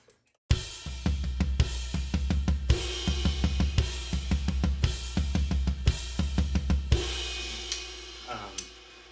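A drum kit plays a steady groove with kick on the downbeats, the ride struck by the left hand, tom hits and right crash accents, close and loud and alone for about eight seconds.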